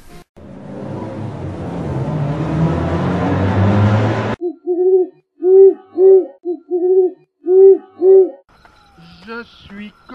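Owl hooting in a series of rhythmic, fairly close hoots, with a few short gaps between them, following a few seconds of loud rumbling noise.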